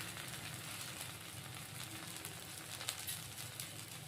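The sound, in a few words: egg dosa sizzling on a hot pan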